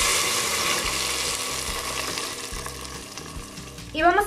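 Ground green leaves for mole verde fry in hot oil in a clay pot on a stove, a loud, steady close sizzle throughout, ending with a brief louder splash of stirring.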